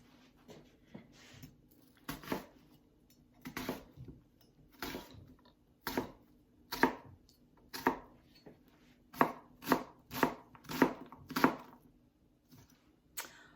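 Knife chopping an onion on a cutting board for turmeric coconut rice: a run of crisp, close thuds, sparse and uneven at first and then quickening into a steady rhythm, with no voices.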